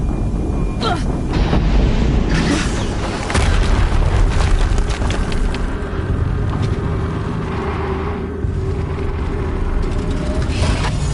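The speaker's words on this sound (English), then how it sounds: "Explosion." Explosions and rumbling booms in a PS4 tank game, loud and dense, with several sharp blasts over a continuous low roar.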